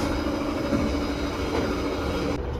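KA Taksaka passenger train racing along at high speed, a steady loud rumble and roar of carriage and wheels filling the whole stretch without letup, heard from aboard.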